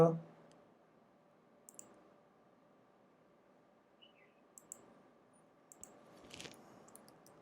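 A computer mouse clicking while someone browses a website such as a shopping site, a few sparse, sharp clicks spaced out over a quiet background, close to the microphone, with no talking.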